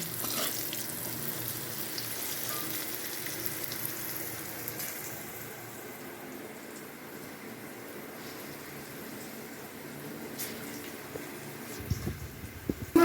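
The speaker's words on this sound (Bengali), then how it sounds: "হালকা করে ভেজে নিতে হবে, এই যে আমি হালকা করে ভেজে নিয়েছি।" Chicken fries lightly in oil, giving a soft, steady sizzle that fades slightly midway, followed by a few closer clatters and stirring knocks at the end.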